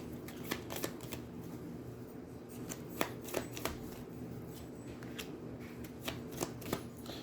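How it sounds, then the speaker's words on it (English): Playing cards being shuffled during an Aeons End board game, a run of soft riffling snaps and taps close by, with a steady room hiss underneath and no talking. "Shuffle any player's turn order card back into the turn order deck"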